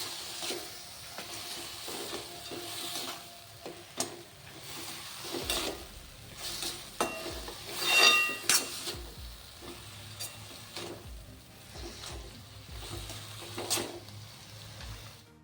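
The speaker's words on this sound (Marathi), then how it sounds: "आपण जे शेंगदाणे भाजून घेतलेले होते त्याला ते सुद्धा आपल्याला बघतात टाकून घ्यायचे आहे आणि एकदा परतून घ्यायचं आहे" Roasted peanuts stir-fried into a spicy Khandeshi eggplant bharit in a pan, with a steady sizzle of frying and repeated scraping, stirring strokes throughout, moderately close and without talk.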